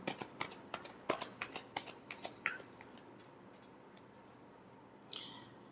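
A tarot deck gets shuffled by hand in a quick run of about a dozen crisp, evenly spaced card taps that fade into quiet, with a faint click afterward and no talking.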